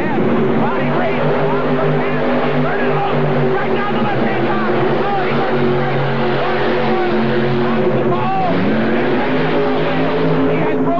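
Tractor pull with nearly identical tractors running 8.3 liter Arius engines head to head, a loud sustained engine roar with shifting tones throughout, and an announcer talking over it.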